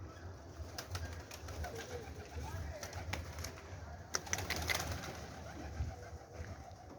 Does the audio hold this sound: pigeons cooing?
yes